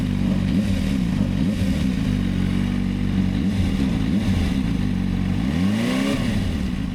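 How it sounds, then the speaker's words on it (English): Suzuki GSR400 four-cylinder motorcycle engine idling loudly nearby with a smooth hum, blipped several times so the revs rise and fall in short swells, the last rev the biggest. "So if I rev it a bit."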